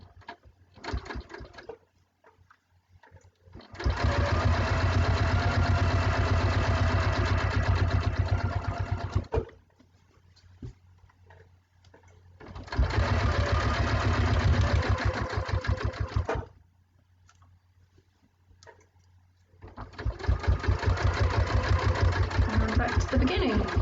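A sewing machine stitches binding onto a quilt in three long bursts of steady, rapid needle chatter. Quiet pauses fall between the bursts, with faint movement in them.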